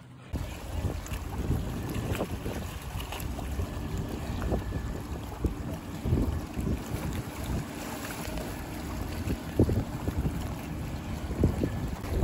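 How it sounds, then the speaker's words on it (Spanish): A loaded motor launch moves near the municipal pier in La Unión, El Salvador, its engine a low rumble under heavy wind buffeting on the microphone and lapping water. "como podemos ver, ya aquí la lancha cargada"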